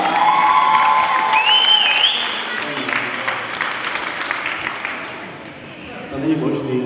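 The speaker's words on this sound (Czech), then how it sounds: "Takže potlesk pro její tanga." A crowd at a children's summer camp claps and cheers, with shouts and whoops over steady applause that thins out and swells again.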